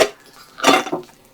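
Someone handles an Omagear lightweight cooking pot kit with an aluminized cozy cover, producing a sharp metallic clink followed by a rustling, clattering shuffle of pieces close by, with no talking.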